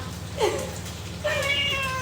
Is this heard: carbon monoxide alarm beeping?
no